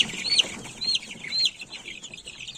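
Chickens, hens and roosters, cluck softly in short repeated calls over a faint outdoor background on a farm, a few birds close by.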